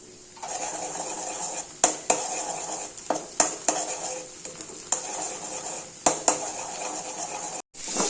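Eggs seasoned with salt and turmeric are scrambled in a pan with a constant light sizzle, punctuated by sharp metallic clinks and scrapes of a utensil against the pan at irregular intervals.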